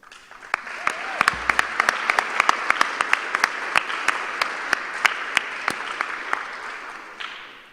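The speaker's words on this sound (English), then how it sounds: "Ladies and gentlemen, let's please have a huge round of applause." An audience applauds at a high school Air Force JROTC awards ceremony: sustained crowd clapping swells quickly, with sharp individual claps popping out above the wash, then fades near the end.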